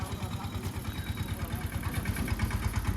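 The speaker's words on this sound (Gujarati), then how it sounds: "ટ્રેક્ટર એ ભરાઈને આવી જાય છે" A low, chugging tractor diesel engine rumbles steadily with a rhythmic pulse as the loaded tractor arrives, fairly close and continuous.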